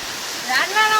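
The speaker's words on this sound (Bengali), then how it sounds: "খুব জোরে বৃষ্টি এসে গেছে" Heavy rain pours down during outdoor cooking in a storm, a steady close broadband roar like rushing water that swells louder in the second half, with a voice briefly audible.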